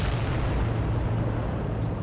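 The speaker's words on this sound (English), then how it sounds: "I don't like the explosion too much, but the sound of it is what I like." A gun explosion from a Bonelab virtual reality game mod: a dense, roaring boom that rumbles steadily for about two seconds with heavy low-end weight and no voices.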